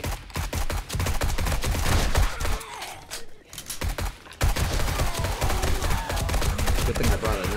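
A modded AR-15 rifle fires in the 7 Days to Die video game, loud rapid bursts of shots rattling almost continuously, with a short pause midway.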